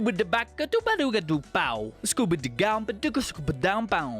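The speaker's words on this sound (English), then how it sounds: "Scatting is a form of improvisational singing that started in jazz music." A lone voice scat sings in quick, bouncy nonsense syllables, sliding up and down in pitch with short breaths between phrases.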